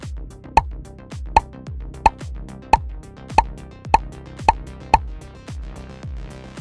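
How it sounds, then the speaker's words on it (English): Eight crisp bubble pops sound one after another at a steady pace as bubbles are tapped in a children's preschool number game, each a bright plop over soft rhythmic background music. "Tap on the bubbles."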